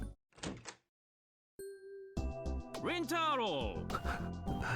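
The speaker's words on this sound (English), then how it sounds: "after a heavy knock, the door to the booth flung open" A door is flung open in the Steins;Gate 0 visual novel video game: a single short thud at the start, then a held tone and speaking voices.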